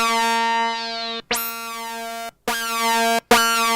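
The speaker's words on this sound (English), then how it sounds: "that sound there would be mistaken possibly for a resonant filter, but it's not. It's a sound of sync" A Behringer Pro-1 synthesizer plays oscillator sync tones: bright, buzzy, harmonically rich notes with sweeping upper partials, played as several sustained notes separated by short gaps and sharp attacks.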